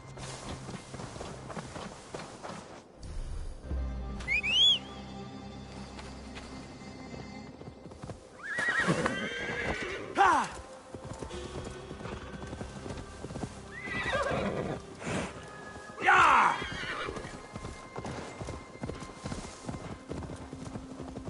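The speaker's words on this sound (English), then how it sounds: "Now to deliver Magni his horse" A horse whinnies three times, shrill and drawn out, amid steady clip-clopping hooves and occasional faint voices, in a video game.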